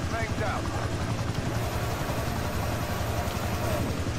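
Chopper gunner helicopter in Call of Duty Black Ops Cold War, a steady rotor drone and whoosh running throughout beneath players talking over voice chat.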